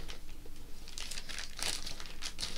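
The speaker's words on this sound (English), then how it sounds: "Sorry, I'm crinkling." A handmade vinyl bag is handled up close, and its loud, continuous crinkling and crackling rustle on for a few seconds.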